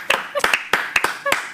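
A handful of people clap in a cricket post-match studio show, about a dozen sharp, uneven claps close to the microphone over roughly a second and a half, with no talk during it.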